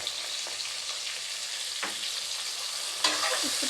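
Chopped onions frying in a pan with a little salt, a steady soft sizzle with occasional scraping stirs of a spatula, quiet and close, no talking.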